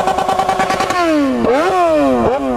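A Yamaha XJ6 N motorcycle engine revs loudly and close by, its pitch climbing and dropping through several throttle blips in a row.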